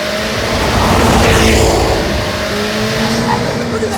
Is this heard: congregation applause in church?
no